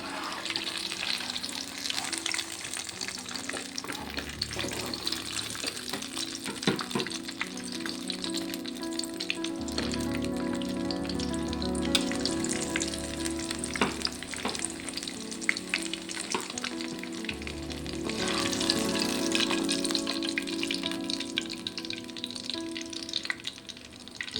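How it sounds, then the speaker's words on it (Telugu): Vegetables fry in hot, reused oil in a home kitchen after brinjals have been cooked, giving a continuous loud sizzle with scraping stirs throughout and no talk. "ఆయిల్ హీట్ అయింది కదండి, ఇందాక తీసిన ఆయిల్లోనే వేస్తున్నాను"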